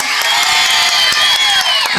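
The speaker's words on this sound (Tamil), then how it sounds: "ஆண்கள் மனசு தான் பெருசுன்னு சொல்றவங்க ஒரு கைத்தட்டல்" Audience at a Tamil pattimandram debate stage event breaks into sustained clapping and cheering, a loud, continuous wash of applause with whoops for two seconds.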